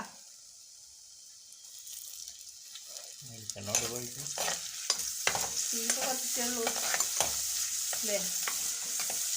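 Shallots, green chili, ginger and curry leaves sautéing in a pan, starting with a quiet hiss, then louder sizzling with repeated scraping stirs of a spatula close by.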